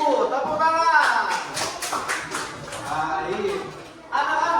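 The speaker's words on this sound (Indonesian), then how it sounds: "Tepuk tangan." Schoolchildren clap their hands in a classroom, a bright burst of uneven claps under lively chatter and voices, fading and then picking up again at the end.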